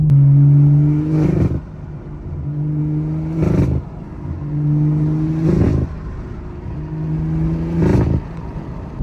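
A manual BMW with a B58 engine revs up repeatedly, rising in pitch, then drops sharply at each of four gear shifts in a regular cycle, loud and close.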